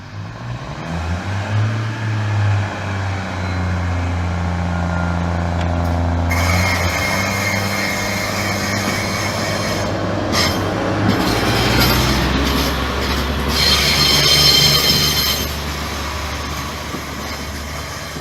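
A train runs through Gainsborough Lea Road station with a loud, continuous low rumble and rolling wheel noise, then harsh screeching wheel squeal and rattling close by in the second half, with no voices.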